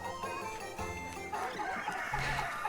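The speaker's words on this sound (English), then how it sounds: "Those poor hens are not going to be able to lay after this." Hens clucking continuously close by, overlapping calls with a louder squawking burst toward the end.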